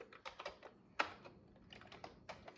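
Rapid, uneven keystrokes on a Commodore 64 keyboard as code is typed in by hand, with one sharper clack standing out among the steady clatter, close and fairly quiet.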